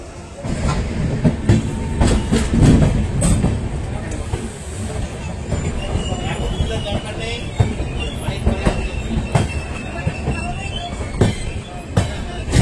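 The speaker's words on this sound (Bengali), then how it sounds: "10টা 17-তে ট্রেনটা ছেড়ে দিল" A Sealdah to New Jalpaiguri train (12343 Darjeeling Mail) rumbles and clatters steadily as it pulls away from the station, with wheel squeals and rail noise continuing throughout, and voices murmuring faintly in the background.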